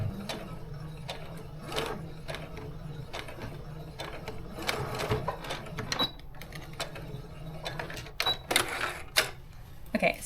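A domestic sewing machine stitches fabric around a hair tie for a scrunchie, a steady close mechanical whirr with a low motor hum, broken by intermittent clicks and small knocks.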